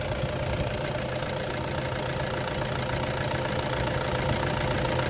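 A stock 2.5-litre Toyota Hilux Vigo Champ pickup engine idles with a steady, even rumble, holding constant at a moderate level close by for the whole stretch with no talk over it.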